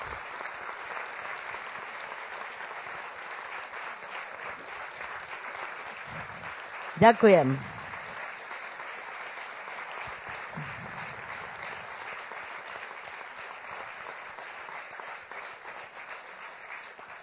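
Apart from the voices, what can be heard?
audience applause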